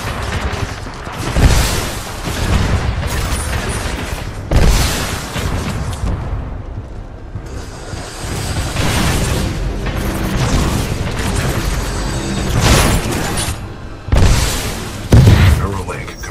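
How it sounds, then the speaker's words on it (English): Shoulder-mounted rocket pods fire in Titanfall 2 on Xbox One, sending repeated loud booming explosions in bursts. The blasts come in several heavy clusters over a constant barrage of battle noise. "Shoulder-mounted rocket pod will lock onto multiple enemy targets"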